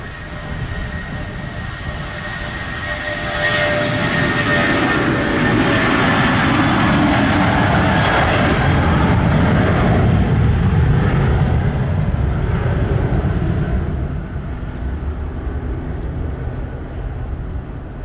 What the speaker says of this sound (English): Clear for takeoff, runway 7, JetBlue